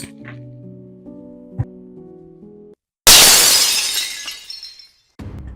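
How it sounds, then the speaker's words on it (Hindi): A glass pickle jar slips from a hand and shatters on the floor with a sudden loud crash, followed by a bright spray of tinkling shards that slowly fades, after soft background music. "सारा अचार गिर गया। बरनी तो मेरे हाथ से फिसली गई।"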